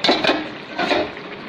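Curry pot being covered with a lid: a short metallic clatter and scrape, a couple of quick knocks, then a brief rattling settle, close and fairly loud.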